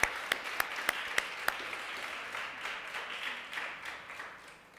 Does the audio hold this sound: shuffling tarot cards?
no